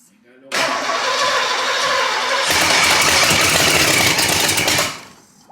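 A car engine running with no exhaust roars loud and raw with no muffling, revving up harshly for several seconds before cutting off abruptly.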